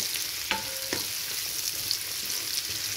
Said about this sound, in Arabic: ننزل عليه بالبصل المبشوره، قصدي متقطعه. نفضل نقلب فيها كده لغايه لما تصفر